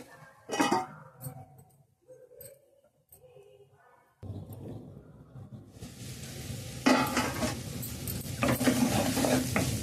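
Ivy gourd and coconut frying in a covered pan make a steady sizzle that swells louder in the second half, with light stirring and clinks of a utensil near the start.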